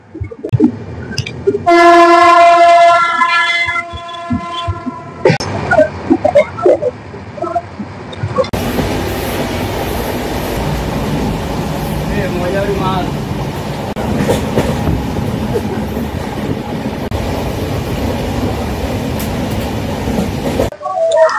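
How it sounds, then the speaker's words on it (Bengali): A train horn sounds loudly, then the Poorva Express pulls away from Bardhaman Junction and runs on with a steady heavy rumble and rattling of wheels on track. "ট্রেন ছেড়ে দিল বর্ধমান জংশন থেকে"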